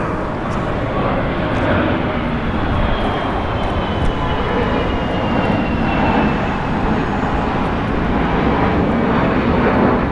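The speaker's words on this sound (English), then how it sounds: "Departing on the north is Sun Country Airlines, flight 426, going to Minneapolis. It's a Boeing 737-8, 21 years old." A Sun Country Airlines Boeing 737-8 departs LAX, its jet engines producing a loud continuous roar that holds steady, with faint voices underneath.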